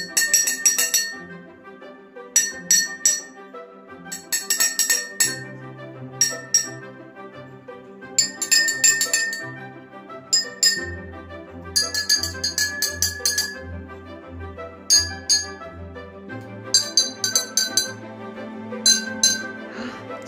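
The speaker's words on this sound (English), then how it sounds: "So it makes the same note regardless if you tap it on the inside or the outside of the glass" Bright pings from a water-filled drinking glass being tapped ring out in irregular clusters of taps, each note sustaining briefly, while a low tone hums underneath.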